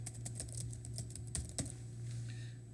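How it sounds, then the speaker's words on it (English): Rapid keystrokes on a computer keyboard come in an uneven run of light, close clicks over a steady low hum, with no talking. "Just type it in the box and hit add"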